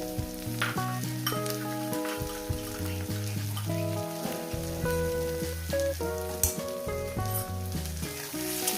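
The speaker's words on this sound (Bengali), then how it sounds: "মশলাটাকে সঙ্গে আমি টমেটোটাকে ভেজে নেব" Tomatoes fry with spices in a pan for a tomato egg curry, a soft sizzle sitting beneath loud melodic background music throughout.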